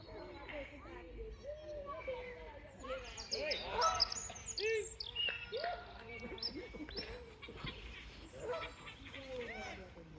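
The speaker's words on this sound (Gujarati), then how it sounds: "તમને બર્ડ્સનો અવાજ સંભળાતો હશે એકદમ" Several birds call outdoors, honking and chirping over one another, with a voice or two mixed among the busy calls.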